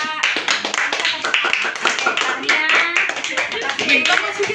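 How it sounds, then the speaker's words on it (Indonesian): A classroom group in Sabah claps for fellow students after a presentation, brisk scattered clapping close by with a voice speaking over it. "Bagi tepukan untuk kumpulan ini pula."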